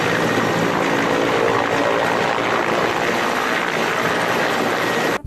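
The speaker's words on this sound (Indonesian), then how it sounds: "ada helikopter Apache teman-teman" A toy Apache helicopter gives off a loud, constant rushing whir like rotor noise, close and unbroken until it cuts off abruptly at the end.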